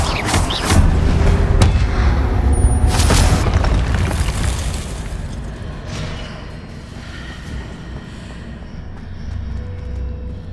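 An Incendio fire spell blasts in the Hogwarts Legacy game, a loud deep booming burst with crackling and whooshing that rolls on for several seconds before easing into a lower rumble.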